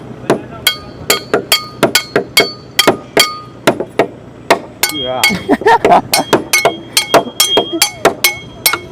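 A hammer strikes again and again with sharp, ringing metallic hits in an uneven rhythm, and a voice talks briefly partway through.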